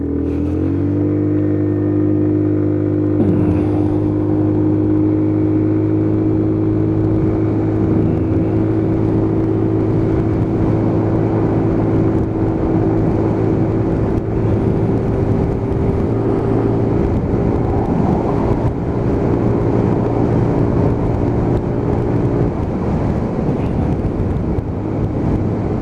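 Lexmoto Titan motorcycle on a dual carriageway after repair, its engine droning loud and steady at high speed for most of the ride, with harmonic tones holding then easing off near the end amid wind rush.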